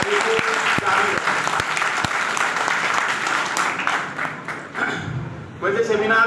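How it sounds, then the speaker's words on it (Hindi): A seminar audience in a college hall applauds loudly, a dense sustained burst of many hands clapping that gradually thins out, with a voice speaking over it toward the end. "आप सभी लोग जोर से तालियां बजाते हुए उनका उत्साहवर्धन करेंगे"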